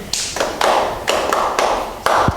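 A secondary school maths class claps in a set order, with a rhythmic sequence of loud, sharp collective claps at steady intervals and a brief thump near the end, no voices.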